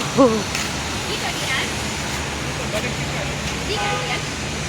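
Heavy rain and flood water in Dubai make a broad, steady rushing wash like running water, with traffic noise in the background and faint voices talking beneath it.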